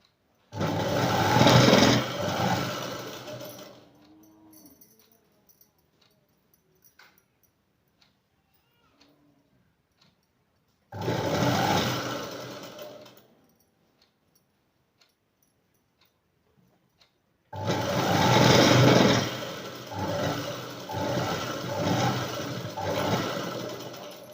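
A sewing machine stitches a blouse side seam in three loud bursts of rapid, even whirring. The bursts are separated by long near-silent pauses and the last run is the longest.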